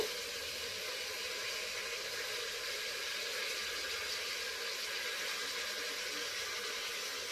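A bunch of fresh mint leaves, squeezed dry, fry in a pan for a special home lunch, giving a steady broadband sizzle and hiss that stays even throughout with no talking.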